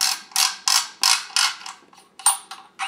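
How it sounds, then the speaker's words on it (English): The retaining nut is being turned off a Benelli MR1 shotgun, giving a run of sharp, bright ratcheting clicks at a steady rhythm that pause briefly and then resume. The sound is close and clear, with no talk. "then we have to take off this retaining nut"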